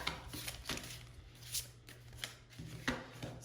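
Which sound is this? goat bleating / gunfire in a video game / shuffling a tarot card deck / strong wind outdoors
shuffling a tarot card deck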